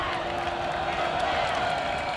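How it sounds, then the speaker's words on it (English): A high school football crowd at Timpview versus Skyridge swells into a steady, dense roar for third down, continuous and fairly loud throughout with cheering mixed into the broad wash of noise. "Falcons crowd gets loud for 3rd down"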